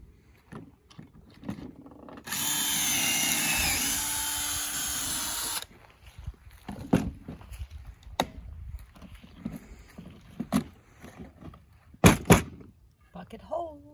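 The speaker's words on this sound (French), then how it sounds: "On va percer ça avec une bite 1/8e, après ça une bite 3/16e." Power drill boring rivet holes into a ceiling beam, a steady loud whine lasting about three seconds, followed by scattered knocks and handling clatter, with people talking nearby.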